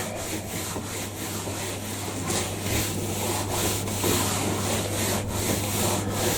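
A cloth rubbing and wiping across a sealed MDF worktop, a continuous close scrubbing swish with repeated back-and-forth strokes.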